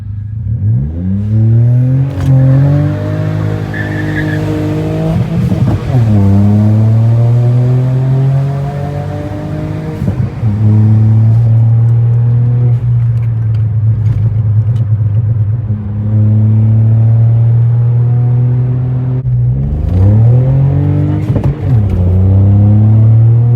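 A remapped Volkswagen Polo with a full system exhaust accelerates hard down a straight road, its engine note climbing steadily through several loud revving pulls with brief dips between gear changes, close and continuous with no talk.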